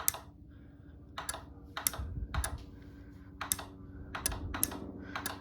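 Sharp, close relay clicks inside an uncased Genie IS550/A garage door opener, arriving in irregular bursts of two or three over a low steady electrical hum.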